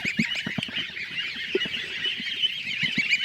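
A dense flock of geese honking over and over, many birds calling at once in a loud, continuous, close-by chorus.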